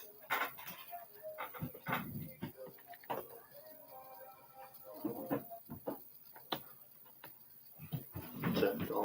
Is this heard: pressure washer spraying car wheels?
no